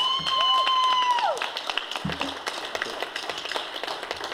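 Audience applause after a speech thanking local supporters and a band, scattered clapping following a sustained tonal whine at the start that glides down and cuts off, the claps steady but somewhat sparse.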